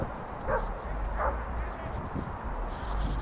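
Dogs out on a walk bark and yip in a couple of short bursts near the start, over steady outdoor background noise, with a voice speaking through part of it.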